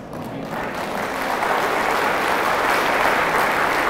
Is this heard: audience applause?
yes